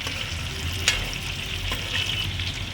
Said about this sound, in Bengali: চিংড়ি মাছের একটা পিঠ আমি ভেজেছি এবার এই পিঠটা উল্টে দিয়েছি অল্প সময়ের জন্য ভাজবো